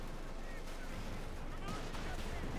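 Bazooka rockets fire at a StuG in Company of Heroes 2. Dull thumps and booms sound through a dense, noisy wartime battle soundscape, with a faint voice under the fire.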